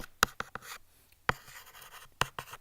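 A pen writes on paper in short scratchy strokes and taps, with several distinct sharp touches and faint scribbling between them, quiet and close.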